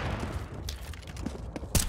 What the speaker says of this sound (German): Niki hit close in den Kopf und da kommt instant der Headshot raus.